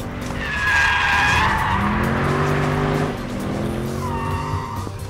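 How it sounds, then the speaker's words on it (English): A Mercedes-AMG car slides sideways in second gear, its tires squealing loudly in long rising and falling tones over a steady engine roar, with a second squeal near the end. "I'm going to go in and initiate a slide in second gear."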